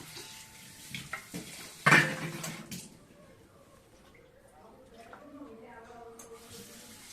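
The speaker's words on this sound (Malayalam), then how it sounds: "എല്ലാം കൂടെ ഒന്ന് മിക്സ് ചെയ്യുവാണേ" A spoon scrapes and clinks against a pot while a food mixture is stirred in a home kitchen, with a sharp metallic knock early and softer stirring after, under occasional speech.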